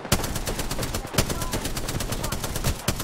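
Relentless automatic gunfire in Apex Legends: loud, rapid shots crackle almost without pause for about three seconds, with a brief dip near the one-second mark.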